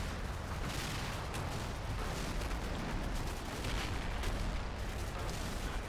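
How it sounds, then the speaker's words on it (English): Mortar fire in a war video game forms a dense, continuous rumble of distant booms and blasts, with no single shot standing apart. "it's just mortars for everybody up here"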